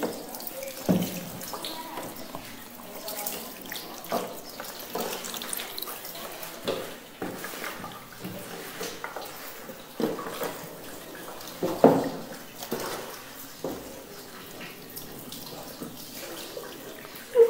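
Water is poured over a deceased person's body during ritual washing, splashing and running in close, repeated bursts, with a steady wet flow between pours and no voices.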